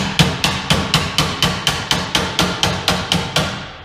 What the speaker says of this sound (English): hammer it on there